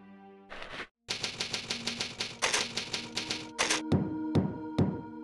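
Gunshot effects in a Resident Evil audiobook, set in a palatial lobby, come as a rapid rattling burst of cracks followed by three heavy, booming, separate shots, loud and close with no voices over them.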